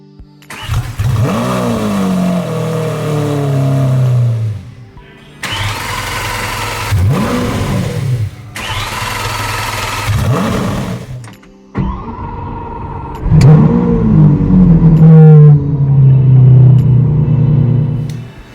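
A Lamborghini Aventador SV engine cranks and fires up several times, revving loudly and settling to a rumbling idle between starts, close by.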